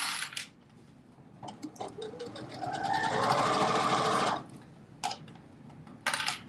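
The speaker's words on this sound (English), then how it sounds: "Love my new sewing machine." A new lightweight sewing machine runs in a steady whirring burst for a few seconds, with short clicks and mechanical taps before and after.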